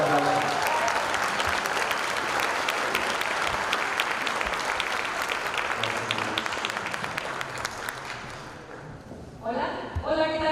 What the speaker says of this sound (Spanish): Recibamos por un aplauso